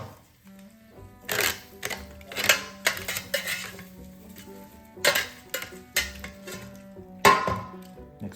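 A spatula scrapes and clatters against a pan as food is flipped and stirred, sharp metallic knocks and scrapes in irregular bursts over a low hum, with no talking.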